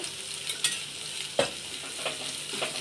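Onion, garlic and ginger roast in a little oil in a pan, with a soft continuous sizzle and occasional scraping stirs, fairly quiet.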